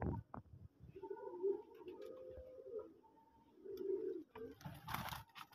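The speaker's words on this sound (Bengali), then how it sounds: "দেখেন কালো কবুতর" Domestic deshi pigeons, including black ones, coo in a backyard loft: two or three low, throaty rolling coos at close range, with a few sharp clicks and shuffles around them and no talking.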